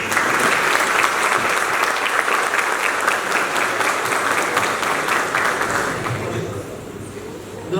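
Audience applause at a literary event in Santa Maria da Vitória, a dense, steady wash of clapping from a crowd that holds for several seconds before starting to thin out near the end.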